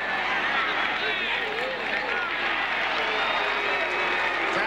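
Spectators at a 2002 NCAA lacrosse semifinal between Virginia and Syracuse react to a holding call, a sustained roar of many voices at a steady, loud level.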